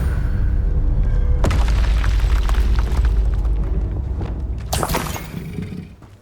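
A spell blast in the video game Hogwarts Legacy rumbles loud and deep, then a second sharp burst hits near the end before it fades.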